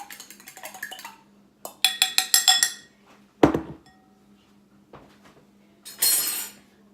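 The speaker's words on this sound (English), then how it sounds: "we're gonna whisk it around so it's all nice, has that nice little yellow color" A whisk clinks against a bowl while batter for buffalo cauliflower is mixed, quick bursts of rapid metallic tapping separated by short pauses, close and clear.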